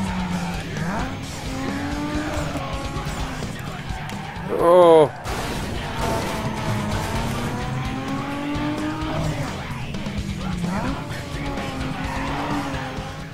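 Brakes lock and tires screech in a loud burst during a street race in Need for Speed Underground 2, cutting through steady engine drone and a tuned car's rising revs, with a player talking over the racing.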